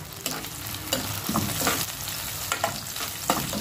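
Ginger sizzles in a hot pan for a pompano kinamatisan dish, close and crackling, while a utensil stirs and scrapes it in irregular strokes, with no voices.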